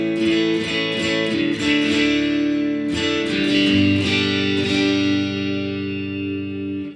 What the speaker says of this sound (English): the actual amp I'm talking about is the AC30